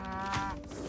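Cows mooing in a stampede attack in South Park Phone Destroyer: a loud, harmonic bovine moo swelling through the second, with layered overlapping calls and game clatter underneath, no speech.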